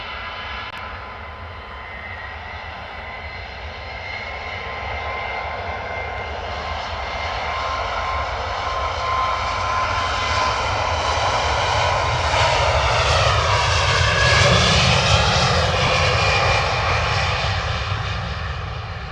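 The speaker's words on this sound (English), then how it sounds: "turn and burn from the Royal Jordanian A320 Neo" A Royal Jordanian Airbus A320neo jet takes off at London Stansted Airport, its engine roar building steadily from a distant rumble to a loud, sustained whine and thunder that peaks and holds near the end, with no talking.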